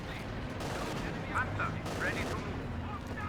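Company of Heroes 2 battle, machine gun fire and gunshots rattling under a steady backdrop of distant combat, with a person talking over it.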